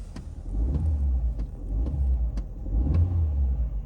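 Fiat 500 engine, freshly repaired with a new exhaust gasket and clamp, revs in repeated swells over a steady idle, close and fairly loud with faint ticks in between and no talk.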